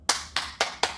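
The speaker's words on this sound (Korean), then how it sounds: "박수." Four crisp, close hand claps from a single person during an idol's livestream from a rented practice room, evenly spaced about a quarter second apart.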